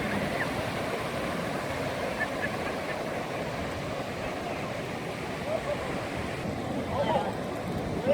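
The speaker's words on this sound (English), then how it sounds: "I don't know if you can really see on camera how beautiful those waves are." Gentle ocean waves rippling along the shore at Galveston beach, a steady soft wash of surf with faint wind, continuous and fairly close.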